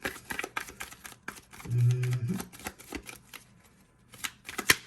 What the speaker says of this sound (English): So, let's just shuffle.